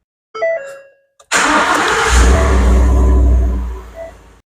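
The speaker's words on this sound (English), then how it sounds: "we're going to go ahead and start the engine" A 2016 Ford F-150 pickup truck engine cranks with a short whir, catches, and roars up loudly before settling into a steady rumbling idle, close by.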